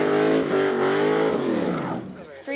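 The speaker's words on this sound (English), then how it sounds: "Not many kids get to do burnouts in the school parking lot." A car revving hard during a burnout in a school parking lot, engine tone climbing then dropping as it winds down, loud and close, with people talking over it.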